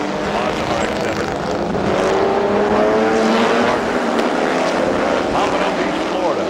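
At Sears Point during the 1996 IMSA endurance race, race cars, including a black and yellow Pontiac, give a steady, loud engine roar that stays continuous throughout, with a commentator talking over it.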